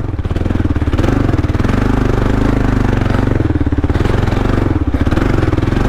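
A KLR dual-sport motorcycle engine chugs loud and close on rutted singletrack, a continuous rough thumping drone with slight rises as the throttle works.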